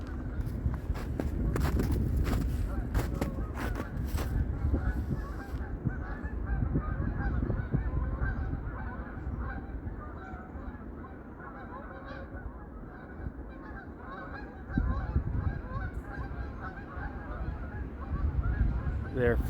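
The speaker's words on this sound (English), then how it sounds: "Here come some geese." Geese honk repeatedly near a lake, loud and close at first with rapid overlapping calls, then thinning out, with footsteps and wind heard throughout and a few more honks later.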